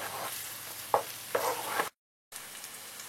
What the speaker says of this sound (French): On va maintenant faire revenir l'oignon dans une sauteuse chaude avec un peu de beurre, un peu d'huile d'olive, sans laisser dorer.